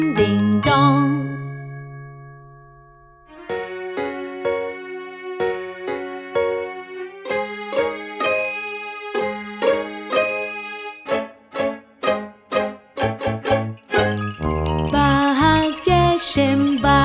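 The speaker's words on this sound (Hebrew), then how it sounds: "פעמון צלצל כבר, פעמון צלצל כבר." Bright bell chimes ring in a children's song, struck repeatedly in rhythmic ding-ding-dong patterns with sustained tones, loud and upfront in a melodic sequence.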